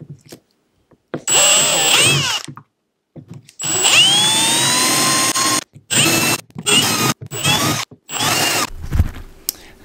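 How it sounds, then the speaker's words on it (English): A power drill whines in repeated bursts, drilling holes in a Sea-Doo Spark watercraft for rivnuts, spinning up and biting through material, with short pauses between holes; loud and close. "We'll take this on over and drill all these holes out."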